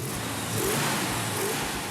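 A 1969 Plymouth Road Runner with a 383 four-barrel V8 runs in a steady, throaty drone, heard from inside the car and fairly faint beneath broadband road noise.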